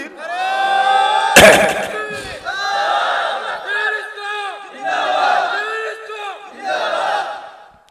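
A large crowd shouts takbir, Allahu Akbar, at a Bangla Islamic sermon gathering, the massed voices rising together in several loud, sustained swells, with one sharp slam-like knock near the start.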